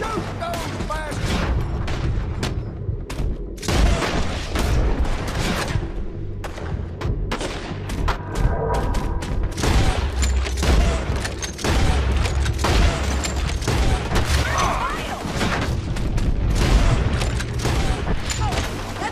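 Gunfire in the video game Red Dead Redemption 2, dense repeated shots and booms packed closely together, loud and continuous over background game noise.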